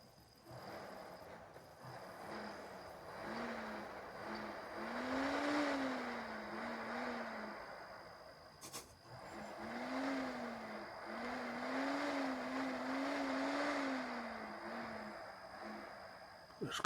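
An Xbox 360 E console with a mysterious fault makes a steady whirring drone that swells and rises in pitch, like an engine being revved, in two long surges that fall back between them.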